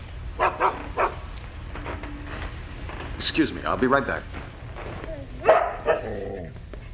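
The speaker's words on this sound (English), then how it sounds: "Stupid dog." A dog barks in short sharp bursts and yips, scattered across several seconds, close by and moderately loud, with someone talking in between.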